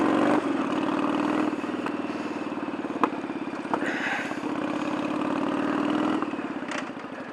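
A motorcycle engine idles steadily and close by as the rider positions the bike near gravel, with a low even drone, faint mechanical clatter and a few light clicks, easing off slightly near the end.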